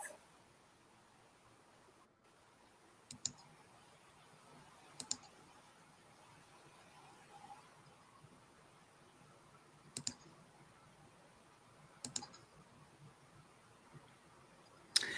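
Buttons clicked during a live stream, sparse sharp clicks spaced a few seconds apart over a quiet room background, with no voices.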